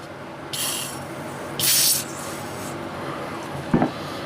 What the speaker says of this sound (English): Let's give it another spray.